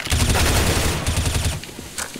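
Rapid automatic gunfire in the video game CS:GO rattles off in a dense, loud burst lasting about a second and a half, followed by a couple of sparser shots.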